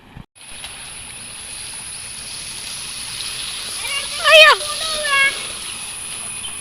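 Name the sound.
children splashing and playing in water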